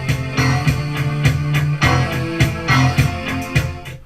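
A German radio with repaired speaker potentiometers playing a station, giving a steady stream of music with regular beats, moderately loud and continuous, with no one talking over it.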